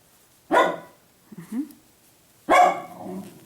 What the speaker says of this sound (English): He really likes to bark.